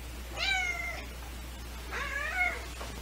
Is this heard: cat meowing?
yes